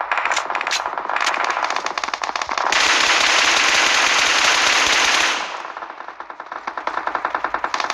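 Rapid bursts of automatic gunfire from a shooting video game, dense and loud, with a sustained roaring stretch in the middle before choppier, rattling shots resume.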